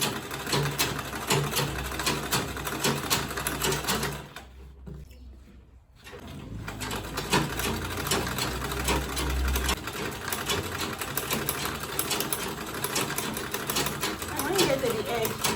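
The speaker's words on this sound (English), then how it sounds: "I'm just going to sew from this point to this point with half an inch back stitch first" A sewing machine stitches a quilted tote bag with a steady rapid mechanical chatter that runs continuously, pauses for about two seconds, then resumes, close and loud.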